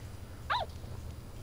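A single short bark from a dog in the game Yomawari: Midnight Shadows, one sharp yelp over a quiet low background hum, no voices.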